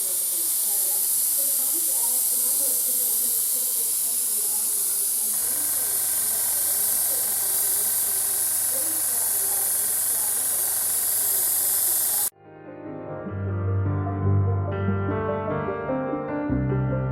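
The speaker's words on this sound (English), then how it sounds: "And then it's a quick spray with some brown, dark brown base coat." An aerosol spray can hisses a dark brown base coat onto a diorama base for a German 88mm gun scene, a steady close hiss that runs for about twelve seconds before music takes over.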